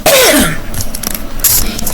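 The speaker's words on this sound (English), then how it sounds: "I've been coughing a little bit off and on" One person coughs once, close and loud, in a short harsh burst at home, followed by some rustling.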